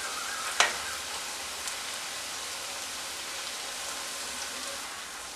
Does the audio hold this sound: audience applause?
no